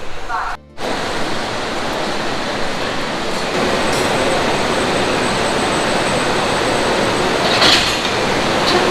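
Shatabdi Express train running from New Delhi to Dehradun, a steady loud roar of wheels and carriage noise filling the whole stretch, with a brief dip near the start.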